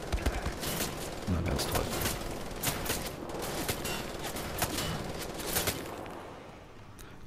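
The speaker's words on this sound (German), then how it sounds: "wenn ich jetzt schieße, dann werde ich wahrscheinlich nur die Gitterstäbe treffen, während er uns hier trifft" Gunfire in the video game Wolfenstein: The Old Blood rattles in repeated close, sharp bursts and volleys, with a voice speaking briefly between the shots.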